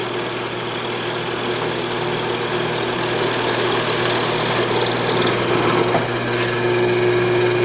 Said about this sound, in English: the first 2 holes are now drilled